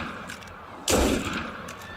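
A quirky eight-barrel double-lock pepperbox gun in Helldivers 2 fires once, a single loud sharp blast that cuts through a quiet background and trails off into a decaying rumble.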